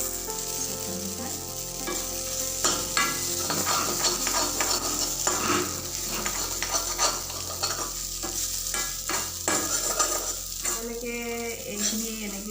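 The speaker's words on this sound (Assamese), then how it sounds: "গতিকে এইখিনি মই ভালদৰে এইখিনি মই ভাজি লওঁ।" Raw banana peel fries in a pan with a constant loud sizzle, while a utensil stirs and scrapes it in repeated strokes throughout.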